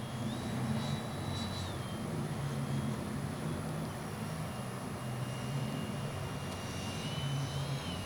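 A Freewing F-22 RC jet gives off a thin, steady turbine-like whine that shifts slightly in pitch, distant and constant over a broad wash of outdoor noise.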